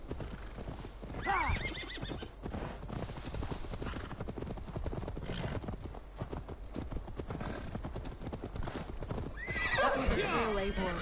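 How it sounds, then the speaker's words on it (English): Rhythmic hoofbeats of a galloping horse in the video game Assassin's Creed Valhalla, with whinnies near the start and end, over game music and ambient noise, with voices talking at times. "Now to deliver Magni his horse"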